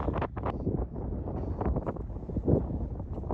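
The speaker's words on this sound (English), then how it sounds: "The wind is picking up a bit." Heavy wind buffeting the microphone while hiking outdoors on the Isle of Man, a continuous rumbling roar with gusty surges and no clear voices.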